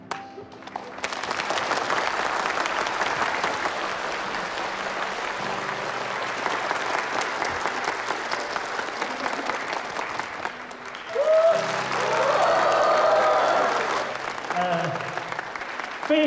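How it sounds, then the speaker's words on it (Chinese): A theatre audience applauds after a performance, a dense, steady clapping that runs for the whole stretch and swells louder near the end, with no voices over it. "你们的掌声就是对我们最大的肯定。"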